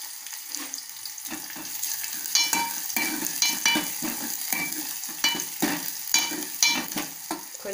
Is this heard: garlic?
yes